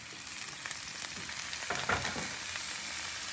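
Tomatoes frying in a pan for a veggie breakfast scramble give a close, continuous sizzle with a few light stirring clicks.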